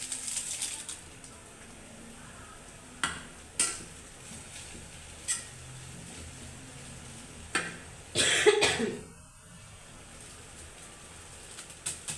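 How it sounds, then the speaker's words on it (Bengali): Instant noodles are stirred with their seasoning in a pan over a lowered flame, scattered utensil scrapes and clanks against the pan, with a louder cluster of knocks near the end over a quiet background. "এই যে মশলাটা দেওয়া হয়ে গেছে, এখন মিক্স করে নিলাম"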